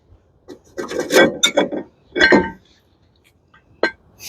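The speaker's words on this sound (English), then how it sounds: "Now we're gonna remove this rotor" Brake rotor being worked off the rear hub of a 2006 Nissan Pathfinder, giving two bursts of close, loud metallic scraping and rasping, then a single sharp clink near the end.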